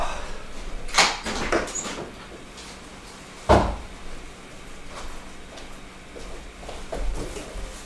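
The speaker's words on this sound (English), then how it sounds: "Also, I'm going to open the door here." A door being opened indoors in a kitchen, with a sharp clunk and rattle near the start followed by another firm knock midway and softer handling sounds around it.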